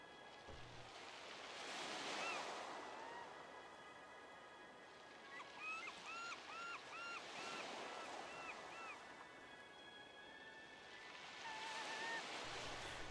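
Ocean waves roll in below a high cliffside in the video game Old Man's Journey, three slow surf swells rising and falling, with soft chiming game music tones floating over the wash.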